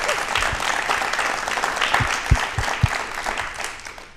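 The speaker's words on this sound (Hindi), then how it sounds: "क्या बात है, तालियां जोरदार होनी चाहिए" Audience clapping in a studio during a televised talk show, a steady dense patter of hands with a few sharper claps standing out, lasting the whole few seconds.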